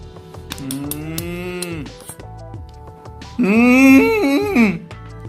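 A person imitates a cow with two drawn-out, moaning moos, the second louder and higher, over a faint rhythmic background.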